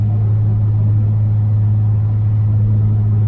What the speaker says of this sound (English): Okay guys, driving through Arkansas.